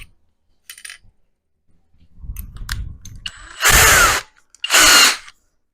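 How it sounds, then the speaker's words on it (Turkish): Two loud, sustained bursts of a cordless hammer drill with a diamond bit boring holes in a wall, each about half a second, follow quieter clicks and low rumbling handling noises. "Şuradan deliklerini bir iki tane delik deleceğiz"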